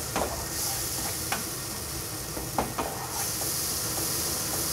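Finely chopped garlic stirred into a hot pan for a Hungarian dish, with a steady broad sizzle and hiss throughout and a few sharp scraping clicks of the spoon against the pan, close up and with no talk.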